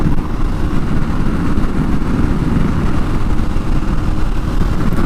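Steady, loud engine drone from a motorcycle being ridden, with wind rush filling the low and mid range continuously throughout, no distinct gear changes or speech.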